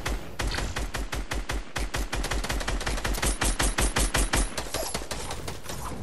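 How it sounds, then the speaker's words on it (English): Rapid, loud gunfire in Fortnite Battle Royale during a 1v1 build battle: dense, continuous automatic bursts with sharp repeated shots throughout, no talking. "I'll shoot at you."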